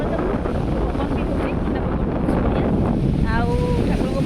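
Wind and sea waves on the beach at Puri, a steady broadband roar of surf and gusting wind buffeting the microphone throughout, loud and continuous with no clear breaks.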